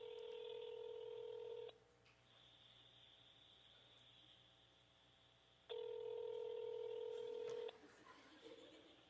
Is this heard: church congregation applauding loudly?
no